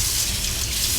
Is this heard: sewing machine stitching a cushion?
no